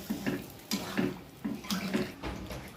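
Water pours into a pot of potato and jackfruit curry in a series of short, splashing gushes, fairly quiet and close, with faint pot clatter between the bursts.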